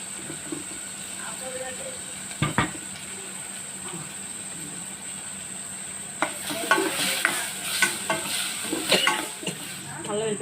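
Pasta and mutton curry frying in a pan, a steady sizzle at first, then busier spoon stirring and scraping through the second half, close and fairly loud.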